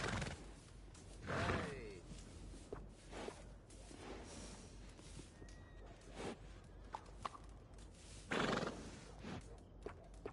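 A horse at a stable in the video game Red Dead Redemption 2 whinnies loudly twice, early and late, between soft clip-clop hoofbeats and shuffling footsteps, with a little quiet game ambience.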